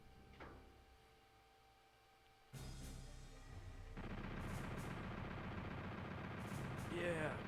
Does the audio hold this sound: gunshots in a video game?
yes